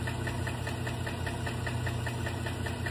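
A GM truck engine, Silverado or Denali, runs with a steady, rapid metallic knock ticking over a continuous idle rumble, close and even throughout.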